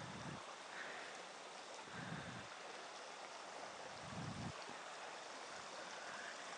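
Steady broadband rush of a flowing river heard outdoors during a walking meditation, a continuous wash of water with soft low thumps like footsteps or wind bumps every couple of seconds.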